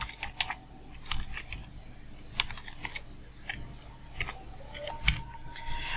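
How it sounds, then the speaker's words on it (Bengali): Quick, uneven keystrokes clack on a computer keyboard as a Google search is typed, crisp and close, with short pauses between bursts and no talk. "আমি গুগলে লিখব কন্টেন্ট রাইটিং"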